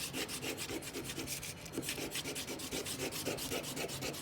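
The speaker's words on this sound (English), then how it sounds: "now I'm folding and burnishing" Repeated rubbing strokes of a burnishing tool pressed along a folded paper crease, a steady close scraping rhythm of quick back-and-forth passes with no talking.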